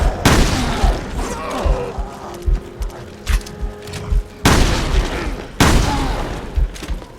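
Shotgun blasts in the video game Resident Evil Revelations 2 come as several loud, booming shots spaced a second or so apart, with game noise and thuds between them.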